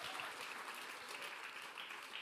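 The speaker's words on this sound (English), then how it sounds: "Yes, it's worth an applause." Delegates at the European Greens Congress in Vienna give a brief burst of applause, fairly faint and distant, with steady clapping from a large audience.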